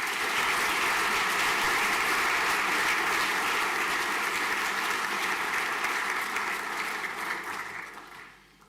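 An audience applauds a scholarship recipient at a senior school prizegiving, with loud steady clapping that fills the hall and then tapers off toward the end.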